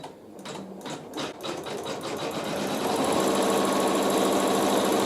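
Sewing machine stitching placement lines on a quilt block over fluffy wool, starting with a few slow uneven stitches then speeding into a fast steady whirring run, close and clear, no voices.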